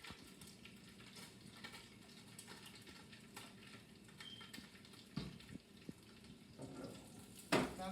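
Cooking in palm oil for a seafood egusi and vegetable soup, a faint low sizzle with occasional stirring and utensil clinks, then a louder knock near the end.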